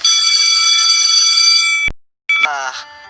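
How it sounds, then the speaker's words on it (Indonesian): An electric school bell rings loud and steady for nearly two seconds to mark the end of recess, stops abruptly, then a second brief burst follows after a short silence. "Bel istirahat selesai sudah berbunyi."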